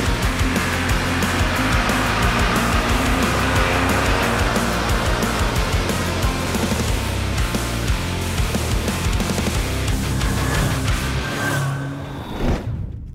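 A Vespa GTS300 and a Lambretta X300 scooter accelerate hard together from 50 km/h, a loud sustained engine drone with wind rush that holds steady before cutting off abruptly at the end.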